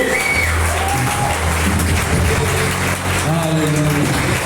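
A church congregation applauds loudly and continuously, the clapping blending with crowd noise and a sustained musical tone, with brief sung or spoken voices rising through it.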